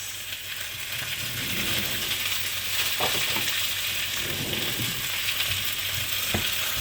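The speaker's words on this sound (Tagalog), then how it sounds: "Bali, gigisa ko lang po siya ng konti. Gigisa ko siya with konting sibuyas." Vegetables sautéing with a little onion in a pan, a steady close hiss of frying oil running throughout, with occasional scraping and clicking of a stirring utensil layered over the sizzle.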